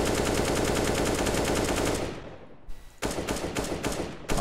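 Rapid automatic fire from an AK rifle in a video game, a dense sustained spray of shots, then a short pause before more quick bursts.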